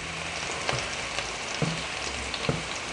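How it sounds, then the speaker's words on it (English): Beef tongue quick-frying in a pan, giving a steady close sizzle with small crackles and a few light knocks as the pieces are moved around. "You just have to do like a quick fry and turn it"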